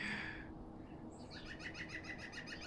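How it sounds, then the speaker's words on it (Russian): A raven perched in a larch tree calls out, a series of rhythmic harsh croaks heard from a distance over faint background noise, fairly quiet, with no talking. "Заняло лиственницу ворон. Сидит и орет."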